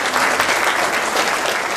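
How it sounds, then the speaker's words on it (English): Conference audience giving a big round of applause at a welcome and keynote session, a loud, dense wash of many hands clapping close and steady throughout the short stretch. "Allison. Yeah, can we just give Allison a big round of applause for putting this thing together?"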